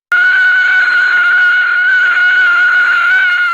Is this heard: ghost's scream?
yes